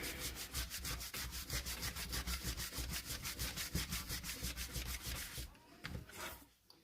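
Rapid, rhythmic rubbing strokes of a cloth buffing wax by hand on a surface, close and quiet, repeating evenly for several seconds before slowing and trailing off.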